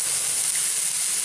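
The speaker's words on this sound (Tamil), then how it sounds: "வெங்காயம் நல்லா வதங்கட்டும், அது கூட கொஞ்சமாக உப்பு சேர்த்துக்கலாம்" Onions sizzle in hot oil in a pan with salt added, making a steady, close, continuous hiss with no talk over it.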